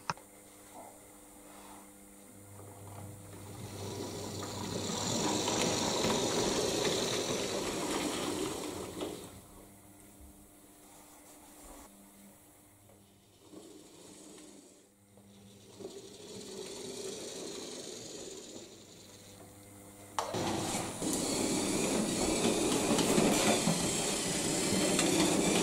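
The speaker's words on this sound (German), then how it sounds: "Nach dem Entladen des Packwagens wird dieser noch in das Nebengleis rangiert." A Fleischmann model steam locomotive shunts a baggage car onto a siding on a 1963-era Dagebüll layout, giving a steady hissing, whirring mechanical run that swells, eases off through the middle, then returns loud near the end.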